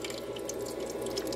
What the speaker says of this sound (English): Filling up the water again